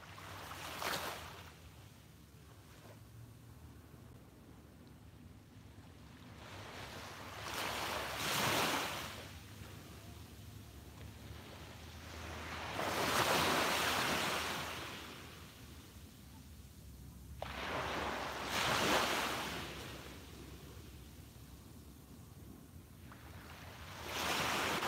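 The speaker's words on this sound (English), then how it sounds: "soak in the sounds of the waves" Ocean waves roll onto a beach in slow, regular surges, each swelling into a broad wash of surf and then receding, with steady wind noise on the microphone between breakers.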